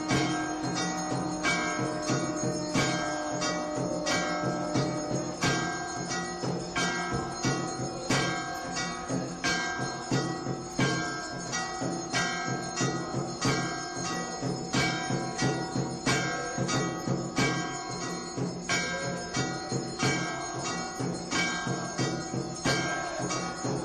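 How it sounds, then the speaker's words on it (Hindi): Temple bells ring continuously in a dense, even clangour through a Skandamata aarti on the fifth day of Navratri, a long steady wash of metallic strikes with no voices over it. "जैसे ही शंख और घंटी बजनी शुरू हुई, पूरा वातावरण भक्तिमय हो गया।"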